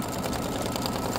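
An embroidery machine stitches a small concentric pattern while working a flamingo sunglasses design. It gives off a steady, rapid mechanical whir with dense, even needle strokes, close and continuous, with no talk.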